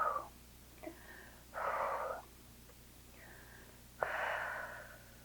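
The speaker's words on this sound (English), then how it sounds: "A few deep breaths here." Deep, slow breaths during a figure-four floor stretch, hugging the left thigh to the chest in a bodyweight cardio workout; three or four breathy inhales and exhales come close and fairly soft, with short quiet gaps between them.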